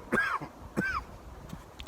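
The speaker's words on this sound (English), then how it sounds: "I've got a bit of a cough" Two short, harsh coughs about half a second apart, close and fairly loud, with quiet in between.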